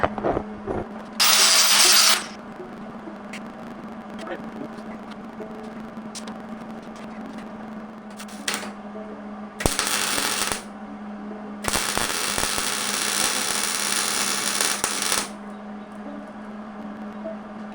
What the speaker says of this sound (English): I'll get me a grinder and make a little bare spot for my ground there